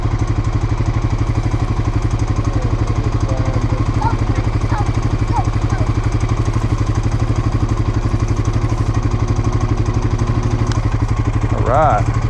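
A four-wheeler engine runs at a steady, loud, close idle with an even throbbing hum throughout, a voice speaking briefly over it near the end.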